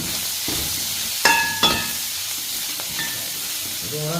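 Garlic dropped into hot oil in a pan, with a steady sizzle throughout and a couple of sharp clatters of utensils against the pan partway through.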